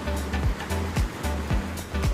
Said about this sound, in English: The waves, the sound, the mist, it's pure magic.